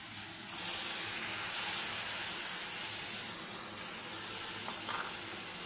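Ginger, onion and garlic sizzle and steam in a pan with a splash of water, a steady close hiss running without pause and no talking.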